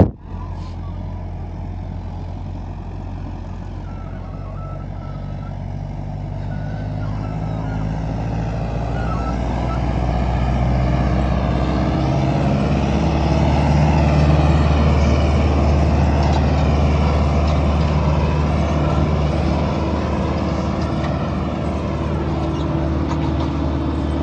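A Powertrac Euro 55 tractor engine runs under heavy load with its RPM dropping low, a steady close low rumble that swells slightly louder midway and holds without stalling, no voices over it.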